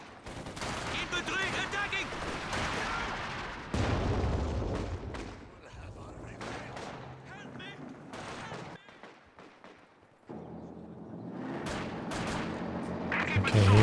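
Dense, overlapping rifle and machine-gun bursts in a Company of Heroes 2 battle, with booming explosions over a steady rumble and a voice talking throughout.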